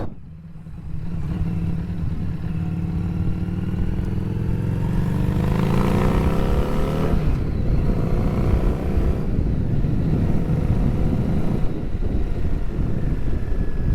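A Harley motorcycle on the road gives a steady engine rumble with wind noise; the pitch rises as it accelerates partway through, then settles into a constant drone.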